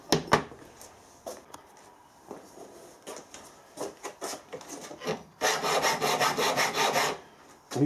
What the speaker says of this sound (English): I'm using a file with what they call a safe edge on.